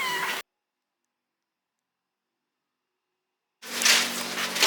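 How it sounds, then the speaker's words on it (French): Two loud, close meows from abandoned kittens in Morocco, separated by a few seconds of silence. "Plein de chats qui sont pastoralisés, donc vraiment beaucoup de chatons abandonnés."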